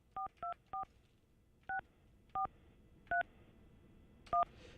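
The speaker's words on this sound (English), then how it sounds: "All right, Andrew, I'm going to dial up the motel" Telephone dialing tones, seven short clean touch-tone beeps, three in a quick burst and then four spaced out with pauses, each distinct against a quiet background, dialing a motel.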